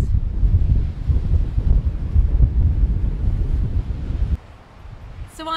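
Wind buffeting the microphone on the Brighton Beach seafront, with waves and surf rumbling beneath, steady and loud throughout before easing near the end.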